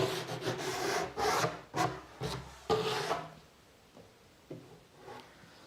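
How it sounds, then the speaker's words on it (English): Deburring the edges of a 3/4 inch wood sheet with a hand tool, several short rasping rubbing strokes close by, loud at first and then quieter, lighter scrapes. "first thing I'm going to do is just quick deburr the edges."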